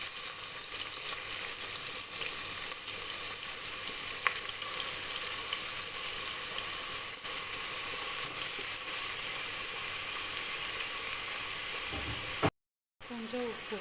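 Onion and tomato sizzle and fry steadily in a pan while cooking for a beef curry, a continuous dense crackle that holds nearly throughout before a brief drop-out near the end.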